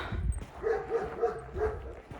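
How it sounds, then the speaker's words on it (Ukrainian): Several dogs barking in the evening countryside outside village houses, a few short barks repeating at a steady rhythm at a moderate distance over low background noise. "собаки гавкають"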